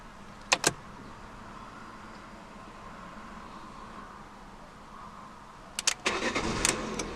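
A 2014 Fiat 500S with a 5-speed manual: a steady low hum, then at about six seconds a sharp click, a brief crank and the engine catching into a louder, settling idle.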